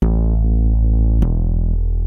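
Synth layered with a harp run through a Chase Bliss Lossy pedal and Mini Freak bass notes, a dense sustained tone with a low droning bass and one sharp accent midway, loud and close with no talking.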